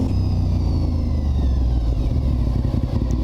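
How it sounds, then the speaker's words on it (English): Honda RC51 V-twin motorcycle on the road, a deep continuous engine rumble with steady low pulsing and wind roar, loud and close, no talking. "This bike just sounds so damn good. When it's going down the road, it's rumbling, it got that V-twin."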